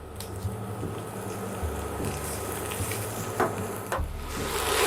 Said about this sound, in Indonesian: Kita tumis terlebih dahulu bawang putih dan bawang bombay hingga harum dan sedikit transparan.